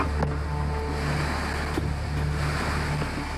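A river in flood, running about four times its normal height, gives a steady, dense roar of churning whitewater, loud and close with no letup.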